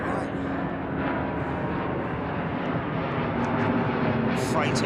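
A freighter aircraft taking off from Heathrow makes a continuous, distant engine roar that holds steady throughout, with a faint rising whine near the end.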